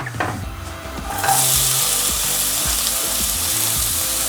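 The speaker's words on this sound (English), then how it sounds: "Garlic and onions can now go into this heated up oil." Garlic and onions hit heated oil for a chilli con carne, breaking into a loud, steady hiss and crackle that starts about a second in and holds continuously, with a few low knocks beneath.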